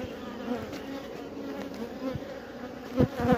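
Honeybees from a swarm hum in a steady, dense buzz at the hive, close and continuous, with individual bees droning past now and then.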